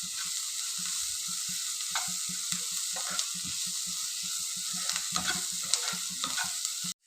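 Ingredients for chilli rumali sautéing in a pan, with a steady close sizzle of frying and repeated scraping strokes of a spoon stirring through them.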